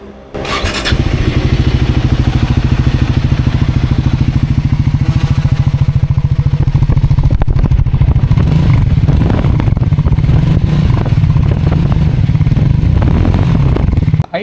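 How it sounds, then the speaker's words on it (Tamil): A Triumph Scrambler 400 X motorcycle engine starts and settles into a loud, steady idle with a throaty exhaust rumble, close by and continuous. "ஸோ இந்த பைக்கோட எக்ஸாஸ்ட் சவுண்ட் எப்படி இருக்குது அப்படின்னு கேட்கலாம்."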